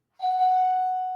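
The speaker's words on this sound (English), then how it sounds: "Oh, 1 sec, doorbell." A single electronic doorbell chime rings clearly, a sustained bright tone that starts abruptly and fades slowly, heard alone with no talk over it.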